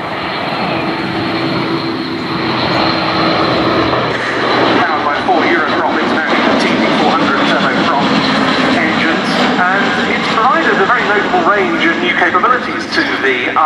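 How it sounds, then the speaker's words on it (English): Airbus Atlas C1 military transport aircraft flying past at an airshow, its turboprop engines building into a loud, sustained roar with a shifting whine, while a commentator talks over the public address. "here comes the Airbus Atlas C1."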